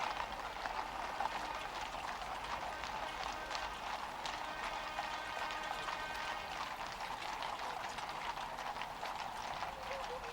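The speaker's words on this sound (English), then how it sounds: "here come the 6 greys drawing the Irish state coach" Six grey horses draw the Irish State Coach at a 1976 State Opening of Parliament, hooves clip-clopping in a steady, continuous patter at a distance, faint beneath a broad outdoor murmur.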